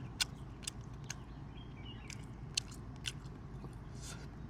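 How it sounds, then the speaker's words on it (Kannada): Close-up chewing of a cooked piece of Malnad-style mutton kurma, with repeated soft bites and moist squishing clicks over a low steady background hum, no talking. "ಪೀಸ್ ಟೇಸ್ಟ್ ಮಾಡೋಣ, ಹೆಂಗಿದೆ ನೋಡೋಣ."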